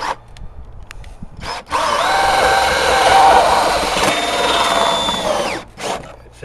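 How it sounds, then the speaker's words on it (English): A power drill runs in reverse boring through house siding: a loud, steady whine that holds for about four seconds and then winds down, with short tool bursts before and after. "Drill in reverse."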